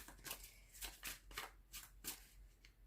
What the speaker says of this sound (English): Okay, let's shuffle with these.